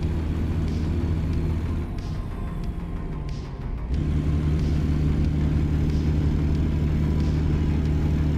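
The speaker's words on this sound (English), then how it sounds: "Oh, I love the sound of this truck," Vintage cabover truck cruising a backroad, its engine a loud, steady low drone with a brief dip in the middle before the rumble returns at full strength.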